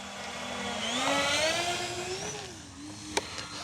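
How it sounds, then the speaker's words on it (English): An E-flite Twin Timber RC plane with two electric motors taxis into a takeoff on a rough field, a steady whining buzz rising and wavering in pitch, fairly close and continuous. "Let's go ahead and just do a little taxi into a takeoff."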